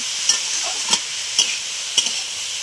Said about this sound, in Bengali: বাঁধাকপিটা দিয়ে দিলাম, ভালো করে একটু ভেজে নেব।